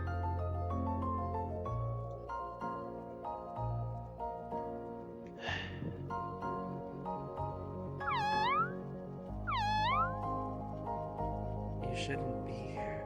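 A cat meows twice in a video game, two clear rising-falling calls near the middle, over a steady ambient musical bed.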